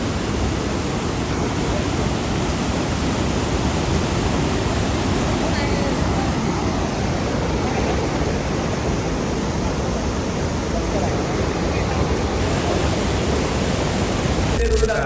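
Steady, dense roar of heavy rain pouring down, loud and unbroken throughout.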